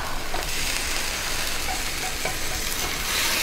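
Reserved beef hits a pan of boiling chicken broth for beef with broccoli, giving a loud, continuous bubbling hiss with faint stirring clinks throughout.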